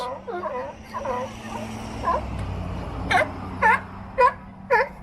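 Sea lions bark and moan in a series of hoarse, wavering calls, the later ones louder and spaced at a steady rhythm.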